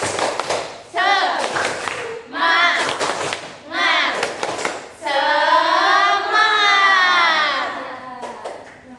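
A fifth-grade class performs a rhythmic spirit clap, bursts of clapping alternating with loud voices chanting in unison, repeating in short phrases and ending in a final long chanted stretch.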